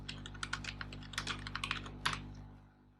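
Java code is typed on a computer keyboard in a quick, uneven run of soft clicking keystrokes, faint and close, with no talking over them.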